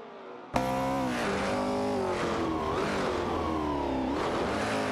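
Race cars, a Porsche 988 Coupe and a Ferrari 330 PFAR, accelerate hard. The loud, close engine roar starts abruptly and continues throughout, its pitch climbing and dropping through gear changes, with no talking.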